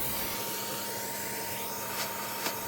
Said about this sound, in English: I'm going to give that a hoover before we start reassembling things